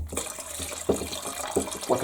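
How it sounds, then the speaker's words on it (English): Dirty water from a carpet cleaner poured into a toilet, a steady splashing, gurgling stream that runs continuously and close up with small surges. "let's go pour this into the toilet"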